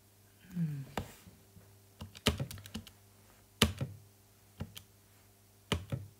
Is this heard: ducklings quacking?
no